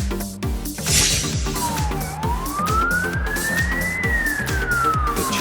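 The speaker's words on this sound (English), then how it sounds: "Czech Republic Police Car." A Czech police car's siren wails in a rising and falling electronic sweep, loud and near, over a rapid pulsing yelp and steady traffic rumble.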